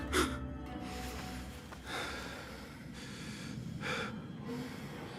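Basim, the character in Assassin's Creed Mirage, breathes heavily in a few ragged, gasping bursts over a steady low game ambience, with no talking.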